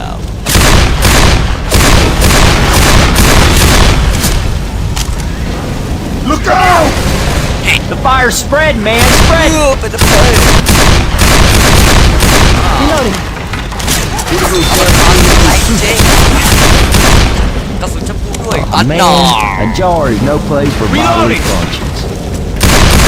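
Gunfire in the Left 4 Dead 2 video game, loud rapid bursts and heavy booming shots in dense clusters, with someone talking excitedly over the shooting.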